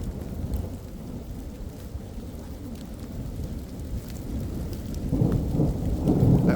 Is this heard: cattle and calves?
no